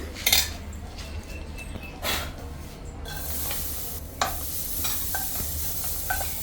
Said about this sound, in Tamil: ஸ்டவ்வை ஆஃப் பண்ணிவிட்டேன் அந்த சூட்லேயே தான் அப்படியே வறுத்துட்ருக்குறேன்